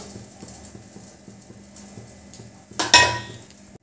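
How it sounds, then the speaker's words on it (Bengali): Salt is stirred into hot oil left from frying onions, with soft, quiet scrapes near the pan under a faint sizzle, ending in a louder burst of sizzling and clatter. "এবার নুনটা ভালো করে তেলের মধ্যে মিশিয়ে দিলাম।"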